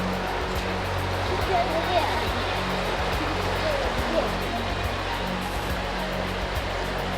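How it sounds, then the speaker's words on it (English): A small waterfall on Bollihope Burn rushes steadily, a continuous close wash of falling water that stays even throughout. "There you go, nice little waterfall there."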